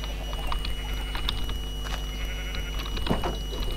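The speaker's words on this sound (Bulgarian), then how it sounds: "Нека окусем пак овцете." Sheep bleat repeatedly in the Minecraft video game, several short bleats rising over a steady background hum with no talking.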